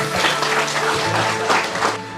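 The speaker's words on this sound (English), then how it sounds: "Let's give him a big round of applause." A conference audience at OBESICON 2025 gives a short burst of applause for a speaker on obesity care. The clapping sounds dense and close, mixed with some murmuring voices.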